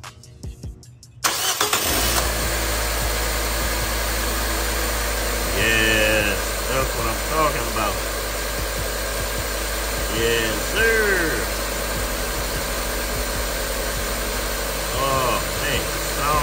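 A 2015 Nissan Versa engine cranks briefly, catches and starts, then settles into a steady, close idle with a smooth running hum. Someone speaks briefly over it.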